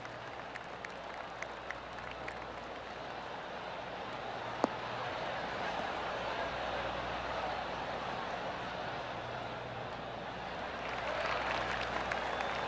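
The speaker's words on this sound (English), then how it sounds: "Oh, golf clap." A gentle golf clap from the gallery in PGA Tour 2K23 on PS5, a soft steady patter of crowd applause that swells slightly toward the end, with a sharp click partway through.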